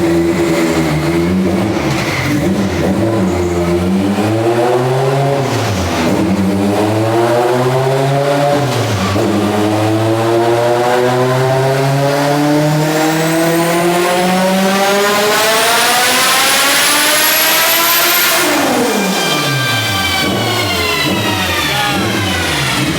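Turbocharged 1200hp all-wheel-drive K-Series Honda EG Civic on a dyno, an extremely loud engine pulling up through the gears with rising, falling pitch, climbing to a screaming peak before dropping off, alone without voices.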